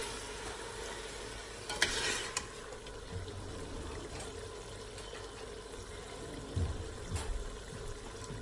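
Aloo gosht being stirred after tomato puree is added, a spoon scraping through thick frying curry with a low steady sizzle underneath and a few louder clatters of utensil against the pot.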